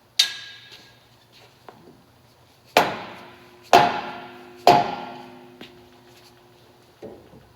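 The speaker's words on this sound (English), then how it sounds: "So that looks like it's as far as in as I'm going to be able to hit it with the hammer." Hammer blows on a wheel bearing of a 2012 Nissan Maxima: three loud, close metallic strikes spaced about a second apart with ringing tails, plus a few fainter taps before and after.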